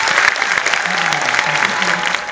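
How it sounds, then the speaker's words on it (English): A school audience applauds a musician at the end of a morning event on a smart campus, loud sustained clapping from a large crowd with a few voices mixed in. "Let us have another round of applause for our guests."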